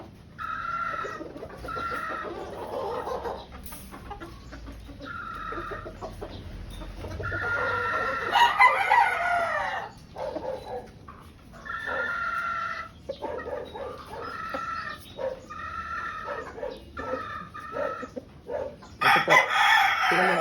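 A pure white Kelso brood stag rooster crows repeatedly at a moderate distance, each call a drawn-out cock-a-doodle-doo, with other fowl clucking and crowing faintly around it.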